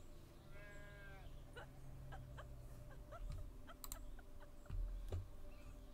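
A goat in the farming game The Stillness of the Wind gives a short bleat early on, followed by soft clicks and light thumps of game sounds over a quiet bed of ambience.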